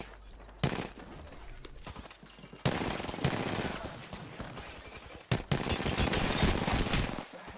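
Automatic weapon fire rattles in the Apex Legends battle royale game, with several bursts of rapid gunshots separated by short pauses and loud, fairly close fire.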